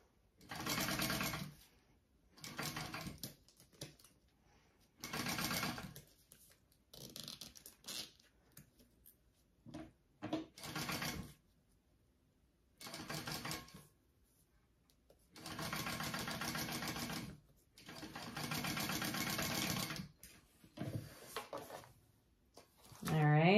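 A sewing machine bastes a lining piece onto a handbag exterior in several short, separate bursts of fast whirring, with someone talking quietly between runs.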